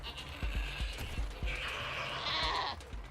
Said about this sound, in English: We really need to prevent this goat from hitting anyone.